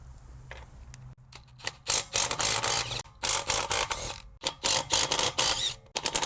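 A ratchet wrench with a 21 mm socket loosens rusted lug nuts on the rear wheel of an Infiniti G37, giving bursts of close, loud clicking and grinding with short pauses between them.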